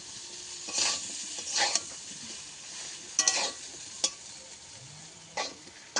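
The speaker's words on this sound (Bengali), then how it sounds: "আলু আর কলা আমি ভালো করে ভেজে নিয়েছি, দিয়ে দেব।" Potatoes and raw green banana fry in a pan with green chilli, a soft steady sizzle broken by several short bursts of stirring and scraping, close and moderately quiet with no voices.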